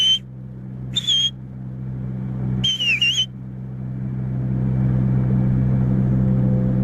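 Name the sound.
person whistling to call a bird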